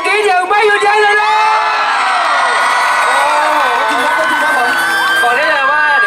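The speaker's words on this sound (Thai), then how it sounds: "ถ้าได้ขอเสียงกรี๊ดอย่างไม่หยุดยั้งเลยนะ" Concert crowd at a university event screaming and cheering continuously, a dense wall of high shrieks and whoops sustained throughout, loud and close, with shouted voices mixed in.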